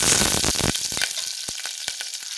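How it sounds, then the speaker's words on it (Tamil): Mustard seeds spluttering in hot oil, then a single green chili dropped in to fry: sharp crackling pops over a dense, loud sizzle that thins into scattered snaps and spits. "கடுகு பொரிஞ்ச உடனே கொஞ்சமாக பச்சை மிளகாய், ஒரே ஒரு பச்சை மிளகாய்"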